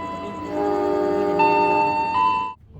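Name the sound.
Airlangga passenger train departing the station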